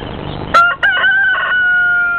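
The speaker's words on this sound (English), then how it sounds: "we have a broody hen sitting on some eggs" A single broody hen gives a loud, close crowing call, rising then holding a long drawn-out note.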